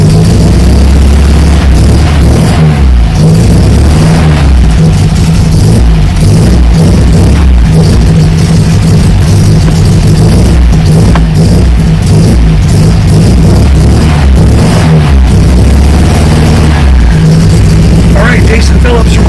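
A restored 1974 chrome-bumper MGB engine runs steadily with a loud, constant low rumble throughout, close and unbroken, while a voice talks over it.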